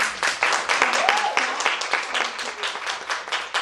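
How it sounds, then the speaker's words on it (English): Applause from an academic research club audience, a moderate round of clapping with audible individual hand claps and a voice briefly cutting through. "Can we just give her a round of applause?"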